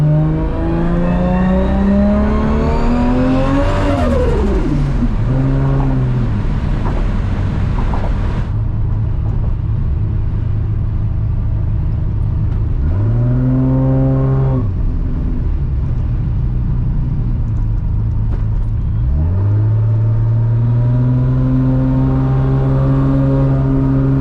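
A 1000-horsepower Toyota MKIV Supra driven at night, its engine loud and close throughout, climbing through repeated hard revs that rise and drop with gear shifts over a steady rumble, with no talking.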